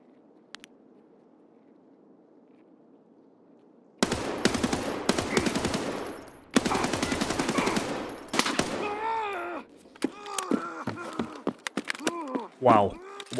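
Rapid bursts of gunfire in the video game Escape from Tarkov, loud and close, arriving in two dense volleys after quiet ambience, followed by someone talking with a few scattered shots.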